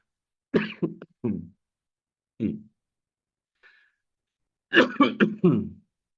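Close, dry coughs in short bursts: a quick cluster of three, a single one after a pause, then another run of three, with silence between.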